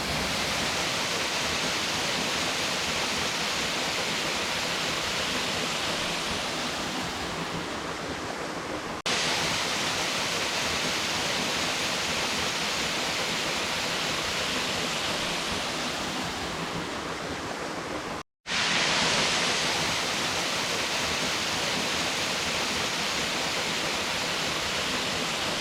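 Blackledge Falls pours in a constant, loud, broadband rush of falling water, steady and close throughout, with one brief dropout near the end.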